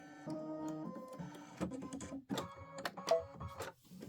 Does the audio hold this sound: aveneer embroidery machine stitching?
yes